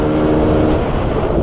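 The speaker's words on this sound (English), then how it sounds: "it's a race engine." A CASA SST 265 race engine drones steadily from inside the moving car while cruising in gear, a loud, continuous low rumble with rough, uneven texture and no talk over it.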